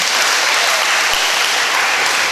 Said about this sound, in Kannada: ನಿಮ್ಮಿಂದ ಒಂದು ಸಣ್ಣ ಚಪ್ಪಾಳೆ ನಿರೀಕ್ಷೆಯನ್ನು ಮಾಡ್ತೇನೆ